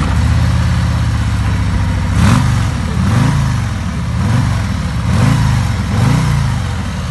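Motorbikes and heavy bikes ridden at an export expo, engines revving in repeated surges over a steady running drone, fairly close and loud, with no talk.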